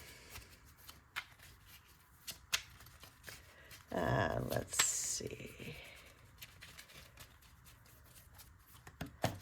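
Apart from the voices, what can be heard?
shuffling tarot cards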